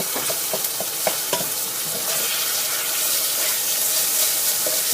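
Steady loud sizzling of meat stir-frying in a pan, with repeated scraping clicks of a spatula tossing it, no voices.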